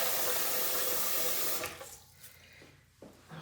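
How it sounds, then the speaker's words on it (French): Water runs from a tap while a washing glove is rinsed at a sink, a steady loud gush for about a second and a half, then cutting off into quieter drips and small splashes. "je vais juste aller rincer mon gant"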